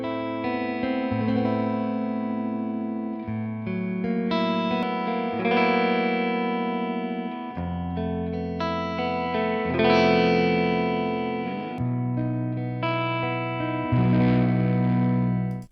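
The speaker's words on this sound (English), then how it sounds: "it's more of that arpeggiated, mysterious kind of sound with non-diatonic chords and open string things" A Strandberg NX6 electric guitar plays arpeggiated non-diatonic chords with ringing open strings, a sustained, effected tone moving through changing chord shapes, loud and close with no talking.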